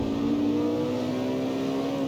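A car engine revs hard and steadily while accelerating in fourth gear in the CarX Street racing game, a continuous loud drone with a slowly rising pitch and no talking.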